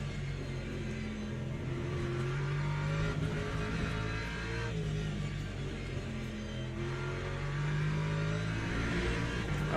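A Lexus race car engine in a racing video game revs continuously, its droning tone rising and falling as it accelerates through corners, with faint tire squeal underneath, steady and moderately quiet throughout.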